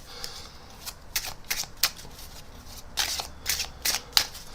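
A deck of playing cards is shuffled by hand for a magic trick, with crisp, close riffling bursts coming in quick, irregular clusters against a quiet background.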